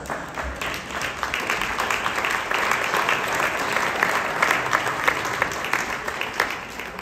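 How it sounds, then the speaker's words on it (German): A crowd at an award event claps steadily for about seven seconds, with even, continuous applause filling the room and little else audible. "ein Applaus"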